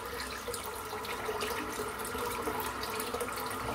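Water runs steadily from a tap into a sink while shaving, a close, continuous splashing hiss with small bubbling variations and no voices.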